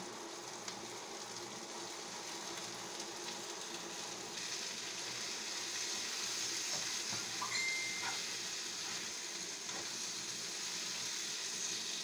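Garlic and onion sautéing in a pan for chicken afritada, a steady close sizzle and hiss of frying with occasional faint stirring clicks, no talking.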